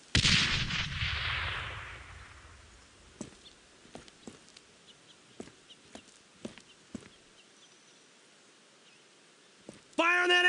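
Artillery and gunfire in the World War II game Brothers In Arms: Road To Hill 30. A big blast rolls out and fades, then scattered single shots crack at irregular intervals, and a voice cuts in at the end.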